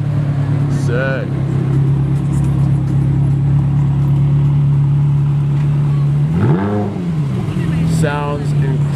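A Ferrari 360 and a Ferrari F430 idle at a steady hum, then one engine blips in a sharp rising and falling rev, followed by another short rev near the end, with people talking outdoors over the engine noise.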